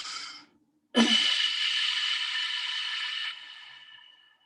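A long, steady breathy hiss of an ujjayi exhale through a closed mouth, close and fairly loud, lasting a few seconds after a shorter breath, with no talking.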